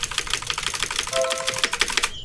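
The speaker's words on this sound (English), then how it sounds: "You get to hear me press the keyboard more." Rapid keyboard key presses while a game is played, a dense rattling stream of close, crisp clicks with a brief tone underneath, ending in one sharper tap.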